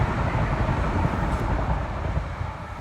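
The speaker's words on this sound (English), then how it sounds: "If it's not trains messing with my sound" Steady heavy rumble of a train rolling past close by, loud and continuous with a broad low roar throughout.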